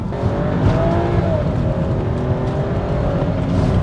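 A used BMW 330i with a naturally aspirated engine revs hard under acceleration, a loud, steady engine roar heard from inside the car with no talk over it.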